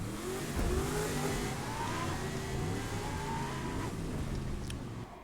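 A drag car's engine revs hard and steadily in The Crew 2 during a street race, with rising and falling pitch sweeps across the whole stretch, loud and close, easing off slightly at the very end.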